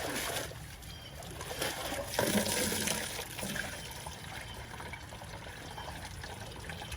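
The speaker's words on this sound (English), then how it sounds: "I'll put some of that same pond water in here and just start rinsing these out." Pond water sloshes and splashes as filter media is rinsed by hand in a bucket outdoors during a pond cleanup, a steady close wet churning with a few louder surges.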